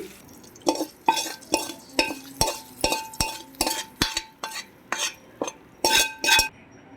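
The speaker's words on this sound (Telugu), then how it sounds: "ఇప్పుడు దీంట్లో మొత్తం కలిసిపోయేలాగైతే తిప్పేసుకుందామండి" A spoon stirs tempering into curd brinjal curry, knocking repeatedly against the vessel in a steady run of close, bright clinks and taps with soft wet swirls between them.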